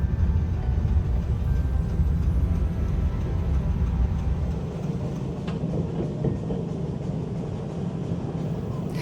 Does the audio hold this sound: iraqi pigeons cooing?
no